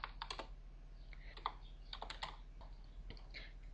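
Commands typed on a computer keyboard while playing a text-based MUD game, a quick run of soft close key clicks in uneven bursts over a low background hum.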